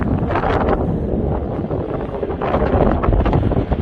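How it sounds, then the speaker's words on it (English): Strong gusty wind at a lookout roars across the microphone, surging and easing in loud bursts, with no one speaking. "It's pretty windy up here"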